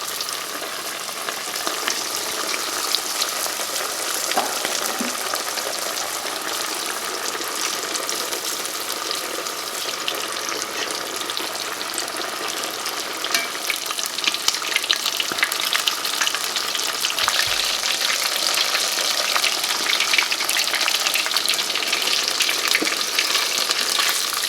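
Coated chicken frying in a pan for sweet and spicy chicken, a dense, steady hiss of hot oil with faint stirring movements, close and continuous throughout.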